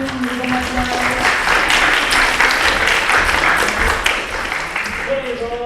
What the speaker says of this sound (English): welcome him with an applause